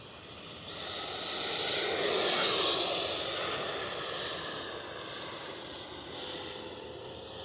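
A Freewing 90mm T-45 Goshawk RC jet makes a steady, moderately loud turbine-like whoosh as it passes, swelling to a peak in the middle and then easing off while staying continuous. No one speaks.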